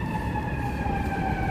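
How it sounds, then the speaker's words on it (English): Emergency vehicle sirens wail steadily on a busy Chicago street, a loud, continuous wavering tone riding over a dense rumble of city traffic. "Got sirens."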